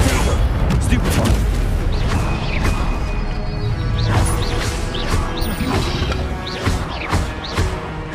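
A Stupefy spell is cast in Hogwarts Legacy, a loud burst with crashing impacts and whooshing magical effects during combat, layered over busy game sounds.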